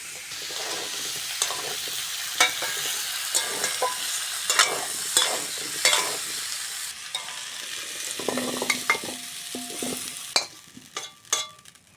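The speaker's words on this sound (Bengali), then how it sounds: "আর আলুটা হালকা করে ভেজে নিয়েছি নামিয়ে নেবো" Potatoes lightly frying in a pan of oil, with continuous sizzle and repeated scraping stirs and spatula knocks against the metal pan, close and alone.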